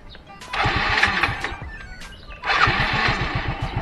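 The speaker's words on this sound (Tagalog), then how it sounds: "nakastart na yung motor" A Yamaha Mio 115 automatic scooter engine cranks and catches twice, each start settling into a steady mid-pitched idle hum, close and fairly loud.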